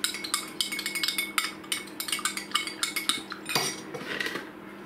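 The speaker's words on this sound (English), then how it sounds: "Give that a little stir up." A metal spoon stirring a sugar cube into coffee in a cup beneath an AeroPress Go, with quick repeated clinks against the sides, close and bright, settling after a few seconds into a softer swirl, with no talking.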